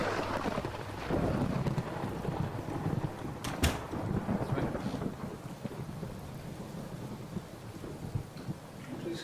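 A thunderstorm rumbles steadily with rain pouring down, building to a sharp crack of thunder before settling back into a dense wash of rain, while a voice says a few words briefly.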